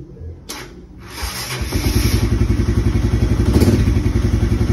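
A Honda CB150R motorcycle is started with its headlight on: a starter whir and clatter, then the engine catches and settles into a steady, loud, close idle pulsing rapidly.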